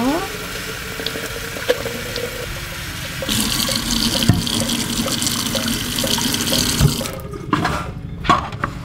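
Water runs steadily from a tap to fill a drinker for young chicks, a continuous close splashing stream that grows brighter partway through before cutting off near the end.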